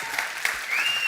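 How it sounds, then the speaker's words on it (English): Audience applause at a live in-person event for the World's 50 Best brand, a brief burst of clapping from a gathered crowd with a faint whistle-like tone rising near the end. "Give us an explosive applause for that."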